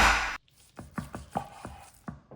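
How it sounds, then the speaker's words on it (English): A knife chopping a thick piece of chuck steak into cubes on a board: after a brief louder rustle, about seven distinct, evenly spaced cuts, close and clear with no talk. "I'll be cutting this into cubes"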